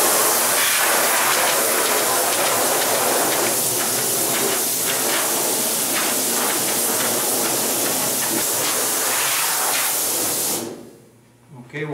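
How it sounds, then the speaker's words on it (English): Compressed air hisses loudly and continuously, blowing sanding dust off aircraft wing fabric, with faint wiping underneath, before cutting off abruptly near the end. "We're going to use a terry towel that's about 18 inches square and compressed air."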